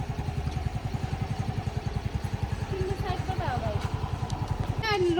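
A scooter or motorbike engine runs close by with a steady, rapid putter throughout, joined by a short horn-like tone near the end.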